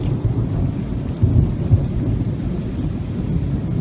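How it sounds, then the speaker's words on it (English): Deep thunder rolls in a storm over flooded Houston, a steady low rumble filling the whole stretch with a couple of heavier swells, mixed with the wash of rain. "Sounds of thundering."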